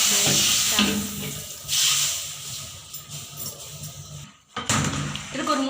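Hot tempering for sambar is poured into the pot, raising a bright, loud sizzle and hiss that flares up then settles, with stirring knocks, a brief silent gap and a fresh burst; a voice talks over parts of it.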